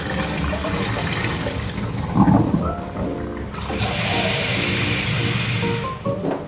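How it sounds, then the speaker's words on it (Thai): Hot water is poured off boiled eggs and cold water run in to replace it, a continuous close splashing and pouring that swells louder toward the end, with no talking. "เดี๋ยวเราจะเอาน้ำร้อนออกแล้วเราก็จะใส่น้ำเย็นไปแทน"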